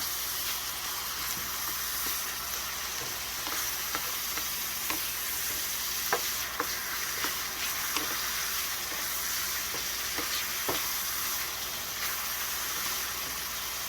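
Bell peppers stirred into smoked herring frying in a pan: a constant bright sizzle and hiss of oil, broken by repeated clicks and scrapes of a spoon stirring, close and steady throughout with no voices.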